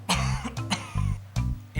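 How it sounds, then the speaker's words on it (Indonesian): A person coughs several times in quick succession, close and harsh, with a brief throat-clearing quality between bursts. "udah 3 hari nih gue batuk nggak sembuh-sembuh"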